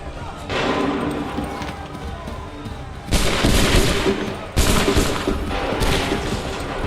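Soldiers fire musket volleys in Assassin's Creed III, loud crackling bursts of massed gunfire that stop and restart, with a heavy burst near the middle and another soon after. Battle noise continues underneath throughout.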